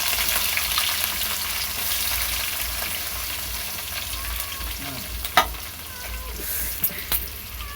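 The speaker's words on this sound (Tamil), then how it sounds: "இப்போ வெங்காயம் போட்டுக்கலாம் தேவையான அளவு." Onions fry and sizzle in a pan for ghee rice, a steady close hiss with occasional sharp scrapes and clacks of stirring, no voices.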